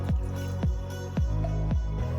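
Water being poured into a mixing bowl for crepe batter gives a series of about five close, rhythmic glugging splashes.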